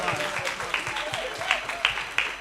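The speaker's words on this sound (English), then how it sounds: "Everybody give TJ a round of applause." Audience applause at a youth wealth-building conference in Eastern Canada, a brief round of clapping with a few sharper individual claps standing out, fairly quiet and with faint talk underneath.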